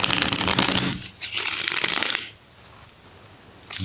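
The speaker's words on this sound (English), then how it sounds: "Okay, last shuffle." Tarot cards shuffled in two quick riffling bursts, close and crisp, followed by a brief pause and a short rustle at the end.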